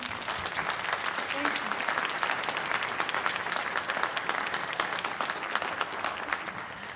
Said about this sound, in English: Can we have a large round of applause for your children?